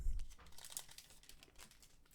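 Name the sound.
cutting open a One Piece card pack with scissors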